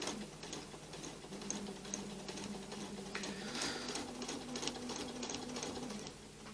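A sewing machine stitching through a quilt top with an open toe walking foot, running in a steady, continuous mechanical chatter with rapid ticking, close and fairly quiet, no talk over it.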